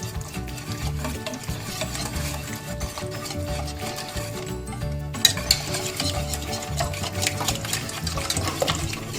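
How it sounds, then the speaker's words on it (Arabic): A whisk beating a chicken marinade mixture in a bowl, rapid scraping and clinking strokes in a continuous steady rhythm, close and fairly loud, pausing briefly near the middle. "وبالمضرب وبنضرب الخليط بالراحة"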